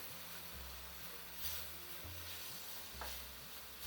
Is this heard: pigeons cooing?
no